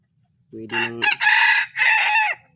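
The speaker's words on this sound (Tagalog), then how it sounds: "Pwede nang isabak pag tumitilaok na ng husto." A rooster crows loudly and close, a full drawn-out cock-a-doodle-doo in several rising and falling segments, with no talking.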